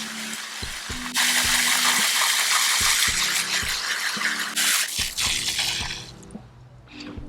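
Garden hose spraying water onto a dirty above-ground pool cover, a strong continuous hiss that starts abruptly and carries on for several seconds alongside intermittent low tonal hums, fading toward the end.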